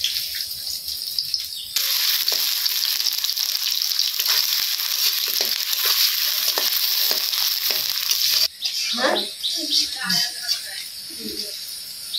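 Onion and green chili fry in a pan with a loud, steady sizzle for most of the stretch, then it drops away and a few voices and kitchen clatter follow near the end.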